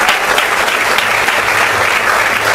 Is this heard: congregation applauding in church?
yes